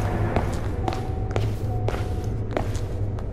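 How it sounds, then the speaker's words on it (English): Footsteps in the horror game Slender Man Arrival: a run of soft, evenly spaced thuds over a low, steady droning ambience, with a few sharper knocks mixed in. "Oh, no, I hear some footsteps."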